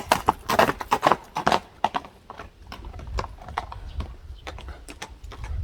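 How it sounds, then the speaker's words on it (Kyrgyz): A horse walks nearby, its hooves clip-clopping in a loud, uneven rhythm at first, then fainter, scattered steps over low background rumble. "Ат көрдүм, турат мына."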